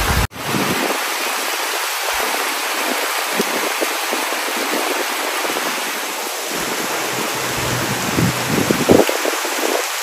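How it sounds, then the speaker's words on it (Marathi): The first monsoon rain pours steadily outdoors as a dense, loud, continuous hiss with small variations, and no one speaks. "पाऊस पण आलाय आता फायनली"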